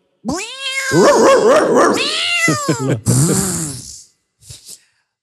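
A man imitates a cat up close, producing loud, drawn-out wavering meows that end in a rough, growling yowl, then a short final mew after a brief pause.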